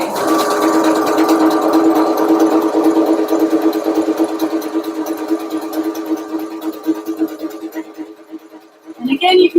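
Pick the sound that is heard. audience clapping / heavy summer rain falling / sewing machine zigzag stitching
sewing machine zigzag stitching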